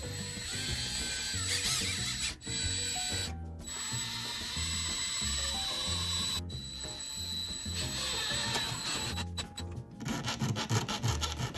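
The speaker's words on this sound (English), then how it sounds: "I'm going to drill two small pilot holes with countersunk heads for" A small bit drills pilot holes in wood for small wood screws on a drone controller handlebar mount. The grinding, rubbing sound runs steadily and close up, with a few brief pauses.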